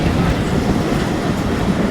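The Mongla Commuter train rumbles steadily along the rails on the Benapole–Mongla line in Bangladesh, a loud continuous roar with faint rhythmic clatter throughout.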